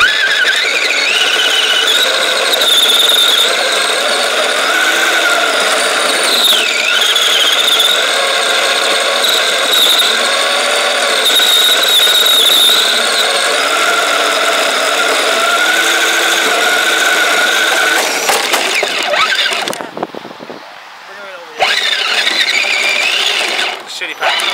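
Kyosho Blizzard RC snow vehicle driving, a steady high whining motor with squealing tones running loud and continuous, briefly cutting out near the end before resuming, with people talking at times.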